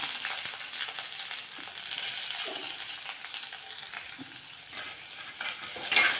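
Small shallots fry in hot oil with mustard seeds and curry leaves for a Kerala onion theeyal. A close, lively sizzle and crackle continues throughout, with light stirring and no talk.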